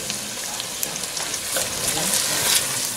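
Garlic frying in a pan, a steady broad hiss and crackle of sizzling oil that swells slightly toward the end, with faint stirring noises underneath.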